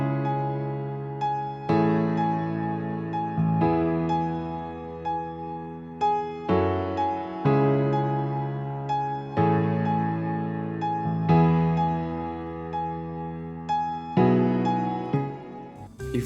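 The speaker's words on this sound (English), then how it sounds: "In the end, the chord progression with some reverb on the piano sounds like this." A piano plays a slow chord progression with reverb, produced in Logic Pro X, with a series of sustained chords struck at a steady pace, each swelling and fading into a wash of room-like tail, no voices.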